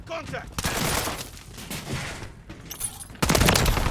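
Gunfire in a Call of Duty: Modern Warfare 3 match, dense bursts of shots and impacts with a loud flurry near the end, mixed under game chatter and voices.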